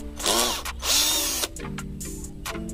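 An Izom 20V cordless drill (IZ-CD/SB-20V) backs out a screw in two sustained whirring bursts, then runs more softly in shorter spurts, close and loud with no talk.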